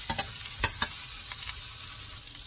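Menudo sizzling in a frying pan while being stirred, with a few sharp scraping clicks of the utensil early on over a steady soft fry hiss.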